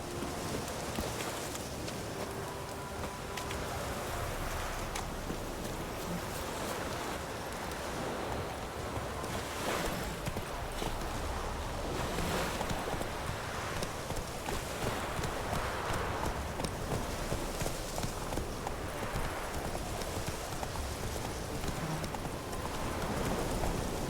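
Horse hooves pound at a gallop in The Witcher: Wild Hunt, a dense continuous rumble of steps mixed with wind and rushing ambience, steady and fairly loud for the whole stretch.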